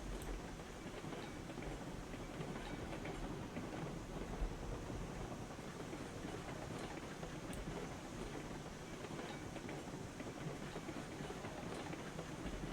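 A steam locomotive in the railroad video game RailRoads Online pulls a small train along the rails, a steady, faint rolling rumble with soft rail clatter and no talking.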